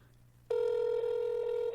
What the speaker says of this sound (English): I'll call from my cell phone